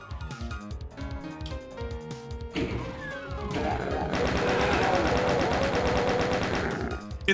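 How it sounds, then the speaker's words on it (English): Rapid-fire machine-gun-like weapon in the classic shooter Doom, a dense burst of repeated crashing shots building over several seconds and sustained loud to the end, layered over busy game music and effects. "Like some kind of Warhammer machine gun."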